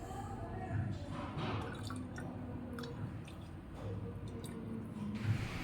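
Sugarcane juice mixed with lemon and ice cubes is poured through a filter, giving a soft, steady dripping and trickling of liquid over a constant background hum for several seconds.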